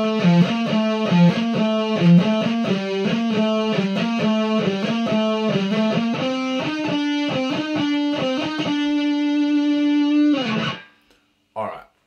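A second distorted electric guitar plays power chords an octave higher in a steady repeating rhythmic pattern, close and loud, then cuts off sharply near the end with a brief trailing noise.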